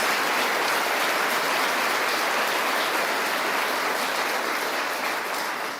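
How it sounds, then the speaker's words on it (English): A large audience gives a steady, dense round of applause that holds at an even level throughout and fades slightly at the end, with no talking over it. "I hope all of us will give a big round of applause and a prayer to Danny Phillips"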